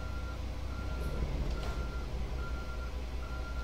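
Reversing beeps from a truck in American Truck Simulator, a steady repeating electronic tone pulsing at regular intervals over a constant low diesel engine rumble.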